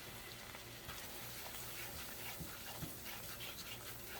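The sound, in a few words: flour cooking in melted butter for a roux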